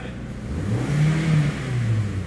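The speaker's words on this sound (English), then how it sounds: "48K on the engine. And honestly, sounds great when you rev it up." A 2013 Hyundai Elantra engine with about 48K miles revs up at close range, a steady mid-pitched roar that swells and holds, then dips slightly and rises again without talk.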